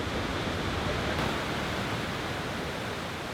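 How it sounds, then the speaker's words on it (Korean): A waterfall crashing down beside a road in a rocky canyon about 1000 m above sea level, its spray drifting like mist over the road: a steady, dense, close roar of falling water, loud and unbroken throughout. "I like the sound of the water."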